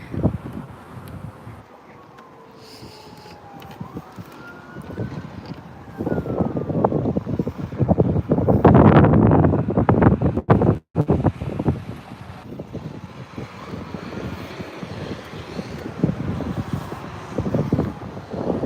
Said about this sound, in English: Oh, she's windy today.